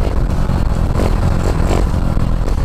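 A Dax 140 motorcycle engine runs loudly and roughly through a wheelie, with a dense, uneven sputtering drone and clatter that never settles into a smooth rev.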